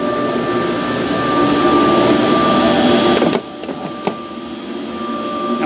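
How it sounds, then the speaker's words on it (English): A Gerber cutting machine cuts leather piping for a Porsche 356 cushion, a steady, loud mechanical whir and hum with a constant tone that drops slightly after a few seconds, with a couple of sharp clicks. "This is the piping being cut for the cushion."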